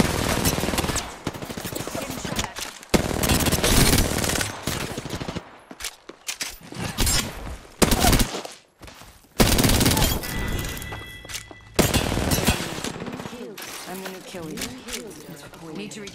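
Dense, loud automatic weapon fire in an Apex Legends firefight, long rapid bursts broken by short pauses, layered with explosions and game effects, with a voice talking over parts of it.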